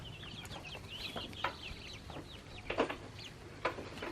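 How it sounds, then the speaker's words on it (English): Backyard chickens cluck in a garden coop, with several short, soft calls and a few sharper squawks scattered over faint outdoor ambience. "Let's show our chickies. Where are they?"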